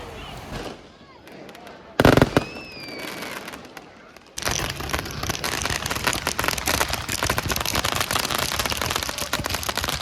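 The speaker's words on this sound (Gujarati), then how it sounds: "ધબધબાટી ફટાકડા ફોડવાનું ચાલુ કરવાનું છે" A loud bang and a rising whistle give way to a dense, continuous crackle of fireworks going off nearby after dark at a hot spring resort in China, with rapid pops layered without pause.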